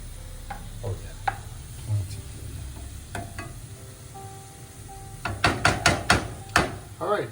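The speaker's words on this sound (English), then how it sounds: "I want to get these onions cooked and everything." Onions cook in a large pan for sopa de lima, giving a low sizzling bed with scattered stirring clatters and a burst of sharper utensil knocks near the end, close and moderately loud.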